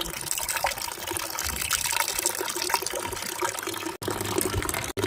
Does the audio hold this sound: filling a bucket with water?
yes